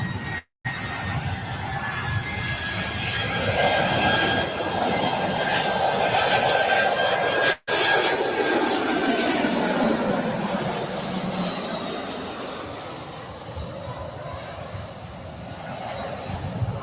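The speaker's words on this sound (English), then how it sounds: "So Allegiant A319." Allegiant Airbus A319 jet near LAX, a long sustained engine roar with a whining tone, growing louder toward the middle and then sliding lower and fading as the aircraft passes.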